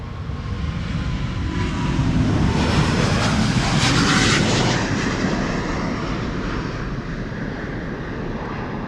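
A loud, steady roar of a two-year-old airplane taking off from Amsterdam's Polderbaan runway, swelling in the middle and holding at full power throughout, with no voices.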